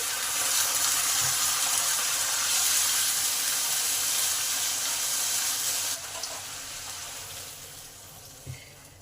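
Water poured into a pan of frying spice paste for a fish curry hisses in a loud, steady sizzle that drops suddenly partway through, then continues as a softer bubbling.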